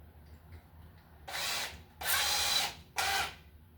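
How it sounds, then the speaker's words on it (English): A power drill whirs in three short bursts while boring a hole in a board, the middle burst longest, close by, with quiet pauses between. "we're going to drill a hole in the middle of our board to bring our wire up."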